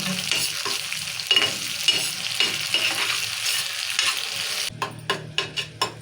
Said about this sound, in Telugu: ఇప్పుడు టమాటా ఉల్లిగడ్డ పేస్ట్ వేసాం కదా నూనెలో మంచిగా మసాలే నూనెను ఒక రెండు మూడు నిమిషాలు ఉడికించుకోవాలి